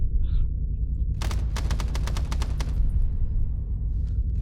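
Sustained machine gun fire laid down as suppression on enemy towers during a combined-arms assault with air support and 81mm mortars, a rapid string of sharp distant bursts over a steady low rumble.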